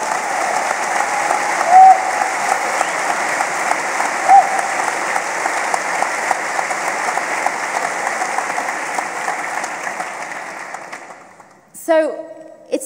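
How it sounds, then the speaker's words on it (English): Sustained audience applause from a large crowd at a third-anniversary gathering of the Together campaign, steady and loud for about ten seconds before fading out, then a voice speaks briefly. "Can we just have a round of applause for all of you,"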